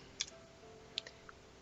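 Password typed on a computer keyboard, a few quiet, sparse key clicks spread across a short stretch, faint and close against a low steady background hum.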